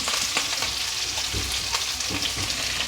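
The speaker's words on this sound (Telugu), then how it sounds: "ఇప్పుడు ఈ ఉల్లిపాయల్ని ఆయిల్లో కొంచెం ఫ్రై చేసుకోవాలి." Onions sliced lengthwise fry in hot oil with a dense, constant sizzle and crackle, loud and close, with a few soft scrapes of stirring.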